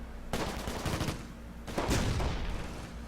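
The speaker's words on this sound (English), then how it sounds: "Let's fire at the AT gun." Gunfire in the Close Combat: Gateway to Caen World War II strategy game, two bursts of rapid shots, the second heavier, over a low rumbling background.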